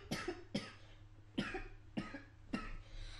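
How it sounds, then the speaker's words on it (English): A close coughing fit: five harsh, abrupt coughs in quick, uneven succession with no talking. "I'm going to have a cough attack."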